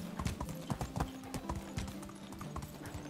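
Horse hooves clip-clop steadily and close while riding over rough ground in the medieval village game Medieval Dynasty, a brisk uneven rhythm with no talk over it.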